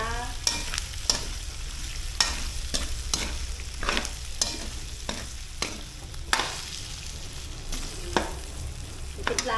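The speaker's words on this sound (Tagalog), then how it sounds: "Igisa na natin siya." Igado (pork and liver) sautéing in a pan, with a steady low sizzle and about a dozen sharp utensil scrapes and clanks from stirring at an irregular rhythm, close up, no talking.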